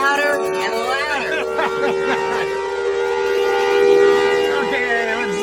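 A restored civil defense siren horn spins loud and sustained, its steady wailing tone swelling slightly as it runs, while people talk over it nearby.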